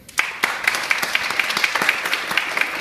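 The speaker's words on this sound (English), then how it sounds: "a rousing round of applause for Seth Q's Mark Spenny" Applause breaks out at a museum news conference for a LEGO art display, a modest crowd clapping with sharp, distinct hand claps standing out against a steady wash.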